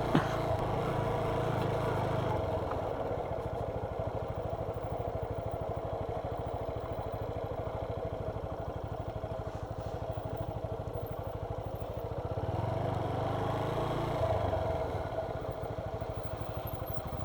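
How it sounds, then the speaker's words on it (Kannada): A vehicle engine drones steadily as it drives off-road through farm fields and paddies near the Harangi river, with rattling clatter over rough ground and a slight swell in revs midway. "ಹೊಲ, ಗದ್ದೆ ಎಲ್ಲ ಕಡೆ ಹೋಗ್ತಿದೆ ನಮ್ಮ ಗಾಡಿ."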